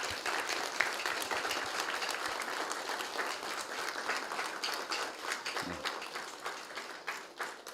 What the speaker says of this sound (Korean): 큰 박수로 감사를 표합시다